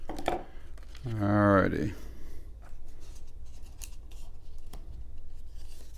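Scissors snip through a sticker on flashlight packaging, a close, quick crisp cut, with a brief spoken word around it and small handling rattles afterward.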